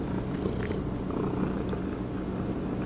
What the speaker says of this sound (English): I'm sure you can hear her purring.